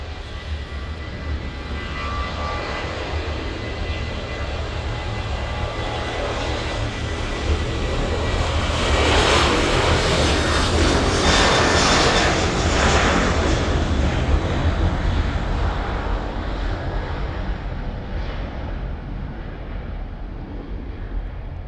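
A Ryanair jet's engines roar at East Midlands Airport in the evening, a loud sustained rushing that swells to a peak midway and then slowly eases off.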